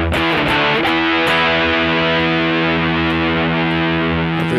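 A heavily distorted electric guitar chord, distortion programmed on a Sigma DSP ADAU1452, rings out loud and sustained, fuzzy and buzzing, with a few strums at the start.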